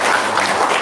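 An audience claps in a steady, dense patter, loud and close, with no voices over it.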